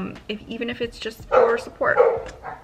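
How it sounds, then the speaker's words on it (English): A pet dog barks and yips in a few sharp bursts, close and loud, overlapping someone talking indoors. "And that is my dog."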